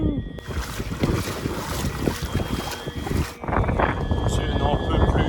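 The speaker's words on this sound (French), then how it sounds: "Je n'en peux plus de ce vent de face. C'est un enfer!" Strong headwind buffets the microphone of a cyclist on the Mongolian steppe in a continuous, gusty roar that eases briefly partway through, then picks back up.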